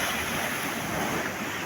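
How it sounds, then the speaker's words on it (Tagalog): Ocean waves break near a damaged breakwater wall, a steady rushing surf sound mixed with wind noise on the microphone, continuous and fairly loud, with no talking. "Makalapit tayo sa malaki yung alon."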